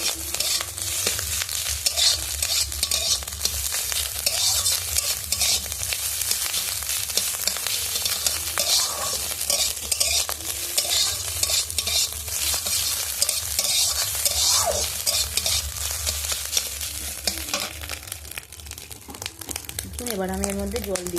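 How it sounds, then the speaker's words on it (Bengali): Fish roe fries in a pan with continuous sizzling, crackling pops and repeated stirring scrapes over about twenty seconds, while a person speaks over it. "একটু ফাটবে, আপনারা একটু সাবধানে ভাজবেন"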